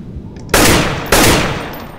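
Two loud single gunshots from a one-shot-kill gun in the video game Garry's Mod, about half a second apart, each a sharp broadband crack that fades into a reverberant tail, with no talk over them.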